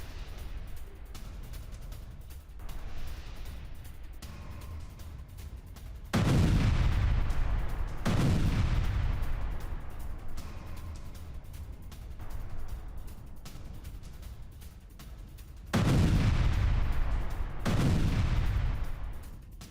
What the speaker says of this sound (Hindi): घेराव कर एक साथ कई टैंक्स ने शेल्स दागे, देखिए।